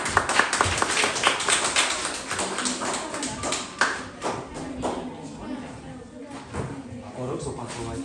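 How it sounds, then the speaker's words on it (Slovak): Enthusiastic applause from an audience at a primary-school recitation contest in Jarovnice, loud dense clapping at first that thins and fades over several seconds, with voices heard under it. "Veľký potlesk."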